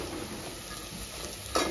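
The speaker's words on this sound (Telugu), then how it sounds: "వేసుకొని కొంచెం ఫ్రై చేసుకోవాలి" Tripe (boti) frying in a pan with turmeric gives a soft, steady sizzle with light stirring scrapes and one brief louder clatter near the end.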